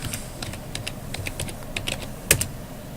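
Keys clatter on a computer keyboard as a terminal update command is entered under Ubuntu, a quick run of close, crisp clicks ending in one louder keystroke, like Enter being struck.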